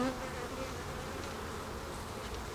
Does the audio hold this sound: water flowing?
no